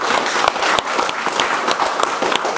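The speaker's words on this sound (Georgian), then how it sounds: "კიდევ ერთი აპლოდისმენტები" Spectators at a fight club face-off event break into loud, sustained applause, many hands clapping densely and evenly near the microphone with no voices on top.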